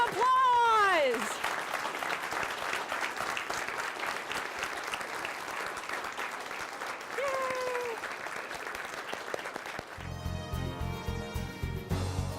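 Big round of audience applause at a high school All-State speech festival performance, loud sustained clapping with a voice speaking over it at the start, then a brief musical transition at the end.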